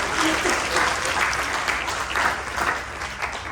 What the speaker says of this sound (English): Give them all a big round of applause, please.